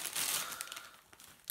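Crinkly plastic packaging around a set of cheap circular knitting needles is pulled open, a close, steady rustle and crumple that eases off, then picks up again in a short burst at the end.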